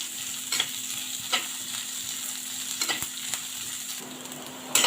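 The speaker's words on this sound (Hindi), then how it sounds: "हल्का ब्राउन होने तक भूनेंगे।" Onions frying in a pan until light brown, with a steady, moderate sizzle and occasional spoon scrapes and taps against the pan.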